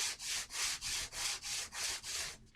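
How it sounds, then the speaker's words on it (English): Steady back-and-forth strokes of a gun part rubbed on sandpaper laid on a flat surface, about eight even, rhythmic rasping passes, close and fairly quiet. "You want to take something that is flat and put your sandpaper down on it."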